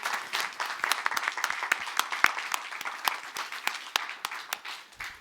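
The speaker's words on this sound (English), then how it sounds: "a big round of applause for everybody" Audience applause after presentations at an HIV prevention session on re-engagement and retention in care, with brisk, crisp clapping from a modest crowd that keeps an uneven rhythm and tapers off at the end.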